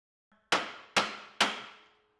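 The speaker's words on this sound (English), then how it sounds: "you can tap that with a hammer" Three sharp metallic hammer taps, evenly spaced and close, knocking a locking nut on a John Deere D140-type riding mower during transmission drive belt work, each ringing briefly before fading.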